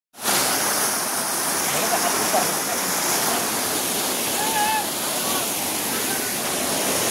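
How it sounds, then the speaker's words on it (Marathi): A monsoon waterfall on a hill trek roars as a constant, dense rush of falling water that fills the whole scene from start to finish. "सध्या धबधबा एन्जॉय चाललाय मस्त."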